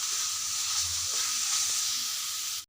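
Prawns and onions fry in a pan with a steady, close sizzle and hiss that runs throughout, with faint stirring scrapes under it and no speech, then cuts off abruptly at the end.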